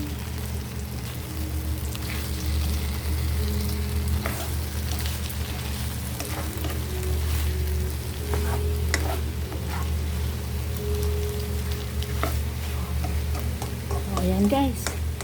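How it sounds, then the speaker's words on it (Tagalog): Egg frying with bitter gourd (ampalaya) in a pan, a loud steady sizzle with repeated stirring scrapes and clinks throughout, close by, a faint voice-like tone near the end. "ilalagay na natin ang itlog. O yan guys, atin ang hahaluin."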